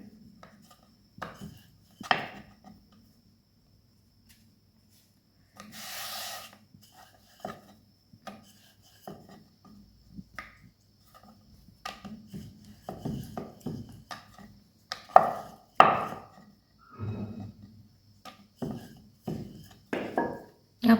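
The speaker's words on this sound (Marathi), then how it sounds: "आता पिवळा लाटून पण तुम्हाला दाखवते मी पुन्हा." Yellow-coloured puri dough is rolled out with a rolling pin on a kitchen board, producing intermittent soft wooden rubbing and knocking strokes in short bursts separated by quiet pauses, with no voices heard.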